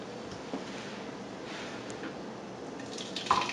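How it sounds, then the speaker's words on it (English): Creamy Charleston peanut soup is poured back into a pan: a faint, steady liquid pour runs throughout, with a soft clink of a container near the end and no talking. "now we're ready to pour it back into the pan."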